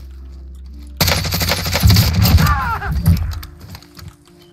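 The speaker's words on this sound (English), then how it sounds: "I actually have no idea where I was getting shot from." Gunfire in Call of Duty Warzone: after a quiet start, a sudden loud burst of rapid automatic shots rattles for about two seconds, then trails off into fainter game ambience.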